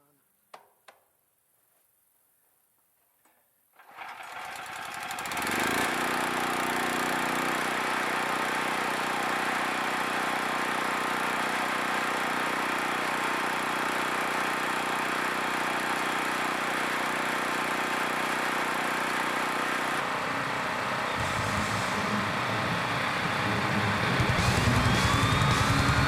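Small portable generator engine started with the choke on, catching after a few seconds of quiet and then running at a steady loud chugging drone throughout.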